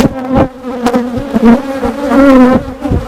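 Honey bees buzz loudly and close around an opened hive during an inspection, a dense agitated drone with individual bees zipping past, with no talking.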